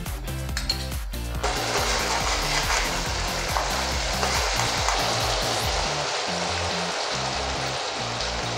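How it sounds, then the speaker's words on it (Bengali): Water hits a hot pan of shahi paneer and sets off a loud, steady sizzle and bubbling that lasts throughout, with a few faint scraping stirs. "সামান্য পরিমাণ একটু জল অ্যাড করে দিলাম।"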